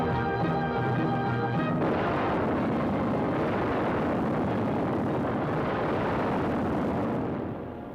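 Bombs dropped from an aircraft explode in a heavy, rumbling roar that swells right after a brief tonal hum and rolls on as one long, loud blast before fading at the end.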